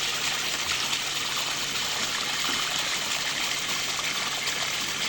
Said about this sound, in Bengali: আমাদের ধান খেতে দেখেন পানি দিচ্ছি মোটর দিয়ে